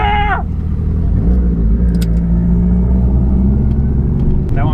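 A turbocharged LS-swapped Subaru Forester accelerates hard on a track, its loud engine note rising in pitch through the gears in a close, continuous roar, with a brief shout at the start.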